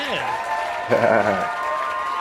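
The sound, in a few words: crowd applause and cheering sound effect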